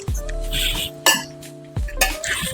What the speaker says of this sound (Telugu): ఇప్పుడు వచ్చేసి నేను ఆవకాయ ముక్కలన్నీ యాడ్ చేస్తున్నా.